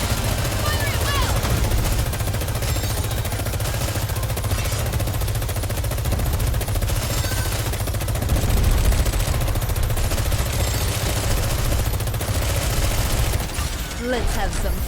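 Sustained gunfire and bursts from weapons in the Nikke video game, dense and loud throughout, with voiced character lines over the shooting.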